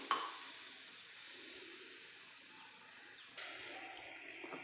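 Water heating toward a boil in a pot of rice-cooking water: a steady, close hiss that runs throughout and rises slightly near the end.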